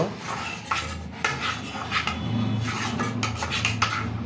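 Spoon scraping and rubbing through a thick food mixture in a pot, with repeated rasping strokes and light metallic clinks, close and steady throughout.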